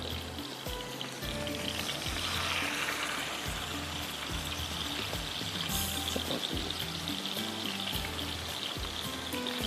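Malai tikka boti pieces fry in hot oil, giving a steady close sizzle and crackle that holds for nearly ten seconds with faint bubbling and no voices.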